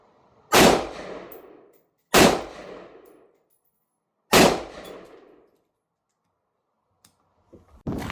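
Three loud rifle shots are fired at a close target, each a sharp crack with a decaying echo, spaced about two seconds apart, followed by faint clicks and handling noises.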